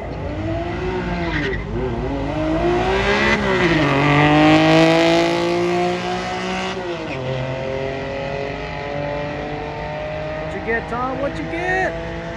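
Naturally aspirated Acura NSX accelerating hard on a quarter-mile drag run at Sacramento Raceway, loud engine revs climbing through repeated gear shifts, then fading as the car pulls away, with voices talking over it.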